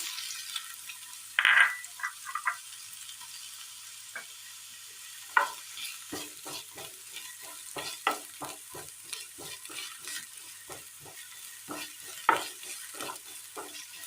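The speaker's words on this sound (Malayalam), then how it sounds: "ബാക്കി വന്ന എണ്ണയിലേക്ക് പാവയ്ക്ക അരിഞ്ഞത് ഇട്ട് കൊടുക്കാം" Soft, steady sizzle of chopped bitter gourd frying in leftover oil, broken by scattered clicks and scrapes of stirring.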